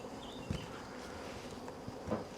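Honey bees buzzing over a frame of honey and brood lifted from a Warré hive, a faint, steady drone of many wings with a few closer bees passing by.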